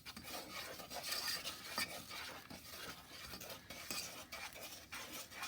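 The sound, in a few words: stirring liquefied brown sugar and melted butter in a pan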